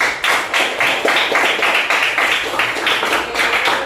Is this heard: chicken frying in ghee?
no